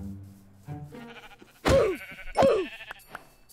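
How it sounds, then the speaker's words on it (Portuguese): Two loud, wavering sheep bleats from Minecraft ring out about a second apart in a hardcore-mode survival game, following quieter game tones and soft background sounds. "Tem mais ovelha aqui."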